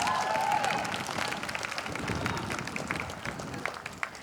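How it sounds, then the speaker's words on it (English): Audience claps and cheers at an outdoor ribbon-cutting ceremony for a centennial celebration and educational staff housing. Dense, moderately loud applause runs throughout, with crowd murmur mixed in. "I'm giving lots of room for clapping."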